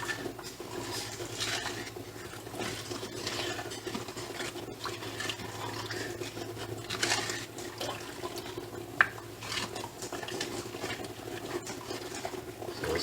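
A spoon stirs salt and turmeric into water, making continuous soft sloshing and swirling with occasional scrapes and clinks against the container, close and fairly quiet.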